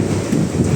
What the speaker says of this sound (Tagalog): Lumakas yung ano, yung hangin at saka yung ulan.